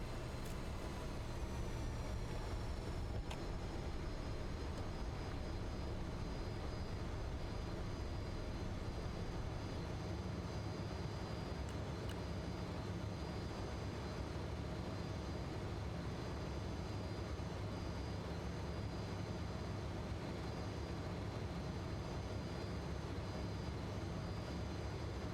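Fokker F28 airliner jet engines spooling up for takeoff in MSFS 2024, a dense, continuous roar with thin high whining tones, loud and steady from start to finish.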